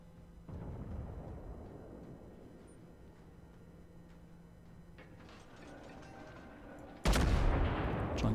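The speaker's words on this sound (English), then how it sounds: "He's firing towards us. Let's turn towards the shots." Enemy warship guns in World of Warships thud and rumble at a distance through a steady mechanical hum, with a sharp louder blast of fire near the end.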